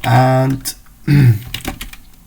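Quick clattering keystrokes on a computer keyboard while a network traffic filter is typed in Wireshark, a steady run of close clicks between and under bursts of a man's speech.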